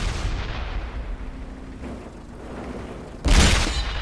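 A tank cannon shot in World of Tanks on console, one sudden loud boom late in the clip after a quieter stretch of low battle rumble.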